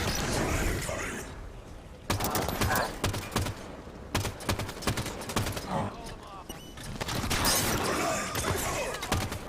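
Grenade blasts and gunfire in the Halo 5: Guardians video game, a dense run of sharp bursts and booming impacts, loud and continuous with brief lulls, with no one talking.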